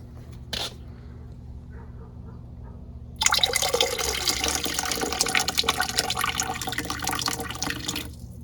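Water is poured off a gold concentrate in a steady trickling stream that starts after a brief clink and runs for about five seconds, near and moderately loud.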